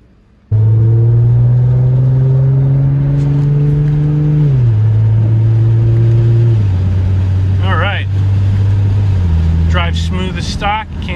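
A tuned car engine in a video game idles and revs loudly in steady droning tones that step down in pitch, with a few brief higher chirps near the end.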